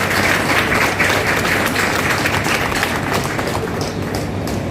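An audience at a public event breaks into loud, sustained applause, a thick wash of many hands clapping that holds steady and eases slightly near the end.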